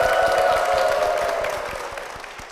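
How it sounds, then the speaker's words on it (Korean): A church congregation applauds a guest being welcomed, a broad wash of clapping with distinct individual claps standing out, gradually fading toward the end, with a faint sustained tone beneath. "박수 부탁드립니다."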